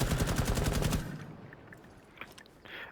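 Rapid automatic gunfire hammers at aim-training targets in Rainbow Six Siege, a loud fast burst of about a dozen shots for a second, then quiet with faint clicks and small thuds.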